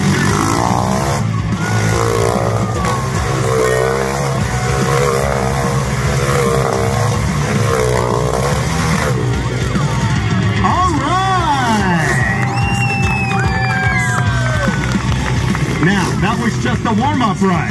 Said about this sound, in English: Watch now as DeLorean demonstrates pure motorcycle madness